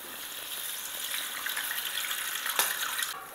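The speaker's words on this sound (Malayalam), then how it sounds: "നമ്മുടെ ഈ കറി തിളച്ചിട്ടുണ്ട് കേട്ടോ" A pot of small sardine (chala) fish curry with Kashmiri chilli and tamarind boils steadily, giving a constant watery bubbling hiss with no talk.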